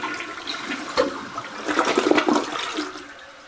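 A 1.28-gallon toilet in a mobile home flushes with a burst of rushing, gurgling water that swells in the middle and then drains away, heard close with no talk.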